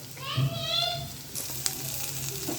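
Onion sautéing in oil with ginger and garlic hisses softly and continuously, with a brief tonal sound early on and a few light stirring clicks.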